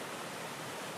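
Floodwater forcing its way out of a cave entrance where water normally never emerges, a dense, continuous roaring rush with no breaks.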